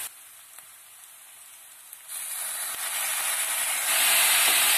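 Boiling water poured into a hot pan of frying beetroot with tomato paste for lenten borscht, a soft hiss that swells into a loud, rushing steam roar over the last few seconds, with no talk.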